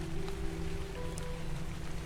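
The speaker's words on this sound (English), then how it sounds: "I don't know what's going to happen if it keeps raining." Heavy rain falls steadily during a storm in New York, a faint continuous hiss with a low steady hum beneath it and no talking.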